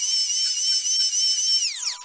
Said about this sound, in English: I'm just going to use my little small power planer to do that.